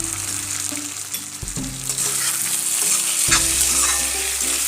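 Fish and eggplant curry sizzles steadily in a pan, a loud continuous frying hiss with occasional stirring scrapes, close and alone without any talk.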